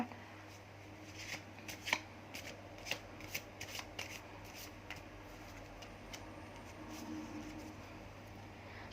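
Tarot cards being shuffled in the hands, quiet papery riffles and light clicks in an irregular run, close but soft, over a steady low hum.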